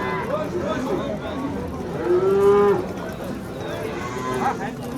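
Cows at a busy livestock market in Oltiariq give a loud, close moo in the middle, with fainter lowing around it and people talking throughout.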